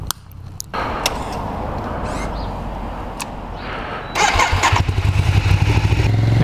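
A Ducati Streetfighter track motorcycle fires up after a few faint clicks and a stretch of cranking, then catches into a loud, close, lumpy idle with sharp pulsing beats.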